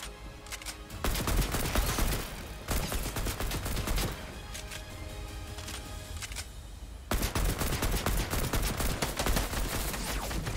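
Rifle gunfire in Fortnite: dense automatic bursts rattle loudly in long runs, with a quieter stretch of distant shots before the heavy firing resumes.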